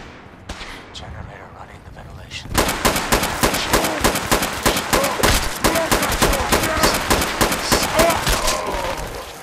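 Rapid, dense gunfire in Fallout 4, a quiet stretch with a few isolated shots giving way to sustained bursts of close, loud shooting that run for the rest of the clip.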